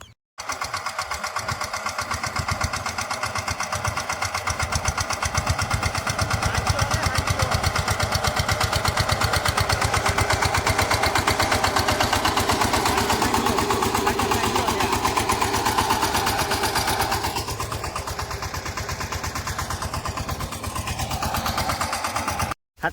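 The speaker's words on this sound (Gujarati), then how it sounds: "ભાઈ હાલ તમે ટ્રેક્ટર મારે હાંકવા છે તો હાંકું ઘડી વાર" A tractor engine running steadily while being driven on a farm, a loud, close, continuous chugging drone that holds for most of the stretch and shifts slightly toward the end, with no speech over it.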